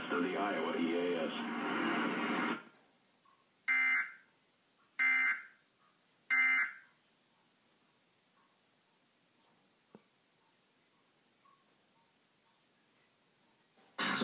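Iowa Emergency Alert System monthly test: a loud two-tone attention signal plays for a few seconds, followed by three short data-burst tones in a row, then near silence.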